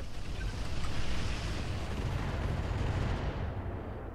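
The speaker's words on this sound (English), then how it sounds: "Let's just hit it with all the missiles." A volley of missiles fired at an armored vehicle in the video game Roguepoint, a dense continuous roar of blasts and rumble that stays loud and then fades slightly at the end.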